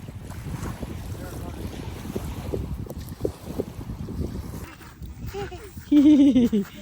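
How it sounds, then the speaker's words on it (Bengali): Wind and rough waves rush steadily around a moving boat on open water, a constant loud roar of cold gusts and splashing, with a brief tonal whine near the end. "শুধু ঢেউ আর ঢেউ আর ঠান্ডা বাতাস"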